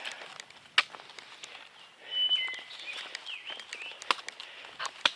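Birds sing and chirp along the Appalachian Trail before a storm, with sharp bright calls scattered across several seconds over a steady outdoor hiss, at moderate distance, with no talking.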